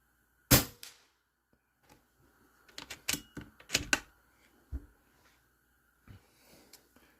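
An Air Venturi Avenge-X PCP air rifle fires a group of shots outdoors, sharp close cracks followed by a quicker cluster of pops and mechanical clicks, separated by quiet pauses.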